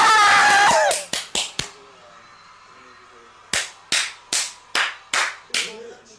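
Sharp, isolated hand claps from a TV talent show prime-time broadcast: a quick burst of four, a pause, then six more evenly spaced, loud and close, with a short stretch of voices and music before them.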